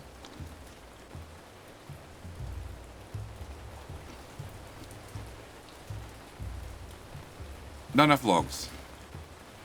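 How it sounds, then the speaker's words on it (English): Steady rain falls throughout a night scene in the video game Ancient Cities, a constant hiss of drops with a low rumble beneath, while someone talks over it and a brief bright chime sounds near the end. "and it's raining"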